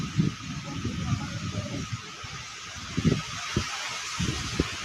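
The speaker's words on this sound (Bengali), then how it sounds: "মাগো কি বাতাস" A strong wind blows steadily outdoors during a storm with a power cut, a broad continuous roar with gusts and rustling bursts, loud and close to the microphone.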